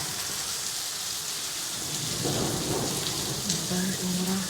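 A thunderstorm with steady rain hissing over everything, then a low rumble of thunder building midway and continuing under the downpour, recorded outdoors from a moderate distance.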